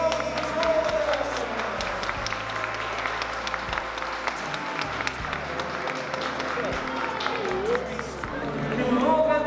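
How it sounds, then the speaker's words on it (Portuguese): Applause at a baptism ceremony, a room of guests clapping steadily throughout, with voices and chatter mixed underneath and a little tonal sound near the start and end. "Uma salva de palmas para vocês."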